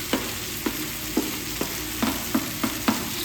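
Turmeric, red chilli, coriander and sambar powders fry in oil in a pan for a fish curry, with a soft sizzle under about eight rhythmic spoon scrapes and stirs, close and fairly quiet, with no talking.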